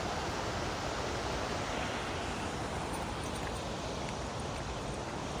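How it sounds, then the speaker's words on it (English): Steady ocean surf rolling in below a redwood coastal trail, a continuous broadband wash that stays even and moderately loud throughout, with no distinct individual breakers standing out. "Just listen to that surf."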